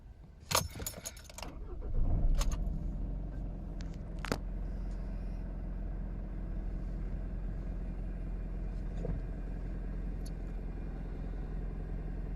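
Keys jangle, then a Mitsubishi engine cranks and starts, settling into a low, steady idle that hums on close by and alone for the rest of the clip.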